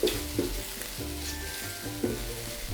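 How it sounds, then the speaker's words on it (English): Mushrooms and aromatics sauté in a pan for Nyonya-style taro rice. A steady low sizzle runs throughout, with a few knocks and scrapes from stirring and a faint background hum. "So we're going to continue sauteing this for about 30 seconds"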